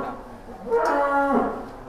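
A one-ton Brahman cow gives a single deep, drawn-out moo rising then fading over about a second, close and fairly loud amid faint outdoor background noise.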